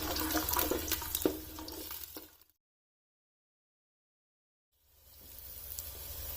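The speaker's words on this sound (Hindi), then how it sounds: "इन लहसुन के जवों को हल्का सा ब्राउन होने तक घी में फ्राई होने देना है।" Whole garlic cloves fry in hot ghee with a steady close-up sizzle and watery crackle for a couple of seconds, then near silence before the sizzling resumes.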